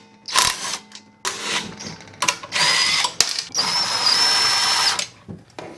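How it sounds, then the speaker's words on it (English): Power drill unscrewing the gas tank from a Predator 79cc engine, with several short whirring bursts and then a longer sustained spin, close and fairly loud amid small clicks and handling noise, with no speech. "I'm going to unscrew the gas tank."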